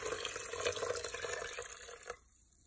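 Water pours in a soft, steady trickle into a pot of elderberries for about two seconds, fairly faint and close, then cuts off to quiet.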